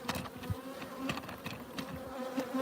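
Honeybees swarm around a bag of sugar syrup in a hive, a dense, steady buzzing close up with individual bees flicking past.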